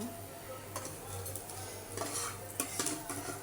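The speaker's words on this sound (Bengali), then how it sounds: "জিরাটা নিয়ে ভালো করে ভেজে নেব" Cumin seeds fry in oil in a pan with a faint sizzle beneath intermittent clinks and scrapes of a utensil stirring against the metal, quiet and close, no voices.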